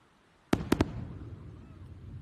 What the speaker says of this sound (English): listen for the booms.